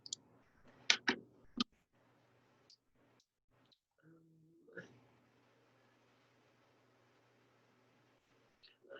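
Typing on a computer keyboard: a quick burst of several close, sharp key clicks, then a few isolated taps spread across a mostly quiet stretch.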